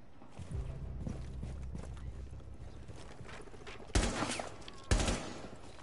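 Video game gunfire crackles in two sharp, loud bursts near the end, following a quieter stretch of shuffling footsteps and movement.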